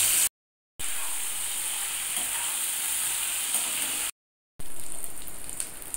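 Salt-and-turmeric-coated prawns fry in hot mustard oil in a frying pan, making a loud, continuous hiss and sizzle that cuts out twice into brief silent gaps.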